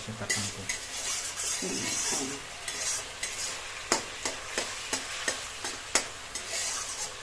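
Egg curry with eggplant stirred and fried in a pan, a constant sizzle under repeated sharp scrapes and taps of a spatula against the pan, evenly spaced in the second half.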